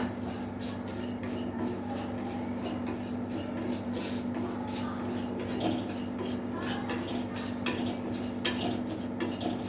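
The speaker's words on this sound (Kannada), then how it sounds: "ಈ ಎಲ್ಲ ಪದಾರ್ಥವನ್ನು ನಾನು ಬಾಣಲಿಗೆ ಹಾಕ್ತೀನಿ" Health powder ingredients being gently warmed and stirred in a pan, giving steady scraping and clinking of a utensil against metal with a constant low hum underneath throughout.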